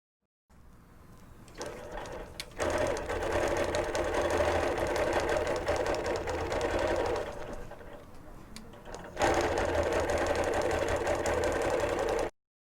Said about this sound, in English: sew the second strip to the first strip right sides together